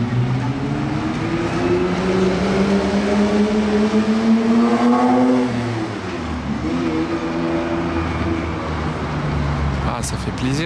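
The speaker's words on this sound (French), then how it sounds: "ça fait plaisir d'entendre un V12 d'époque comme ça sonner un petit peu" A vintage V12 car engine revs on a Paris street, a loud close drone rising and falling in pitch as it accelerates and eases off, with voices talking over it.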